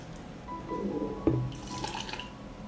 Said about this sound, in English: I pour the dressing into a jar.